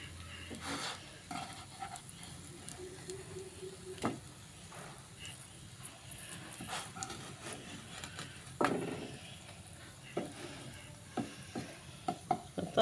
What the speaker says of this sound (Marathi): एक सायड बरें करून फ्राय जालें, दुसरे सायडीन फ्राय करता.